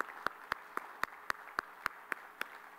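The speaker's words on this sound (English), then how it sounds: "join me in thanking them with a big round of applause for their very interesting contributions" A lone person claps slowly and steadily for a panel of mayors at an urban climate resilience session: about ten evenly spaced, sharp claps, fairly faint, with no crowd joining in.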